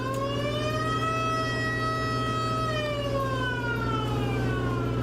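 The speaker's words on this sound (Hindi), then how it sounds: "इस सिस्टम से अभ्यास शुरू करते ही सायरन बज उठा" A wailing siren sounds at a Taiwan Patriot missile defense drill, its rising and falling tone loud and continuous over a low steady hum for the whole stretch.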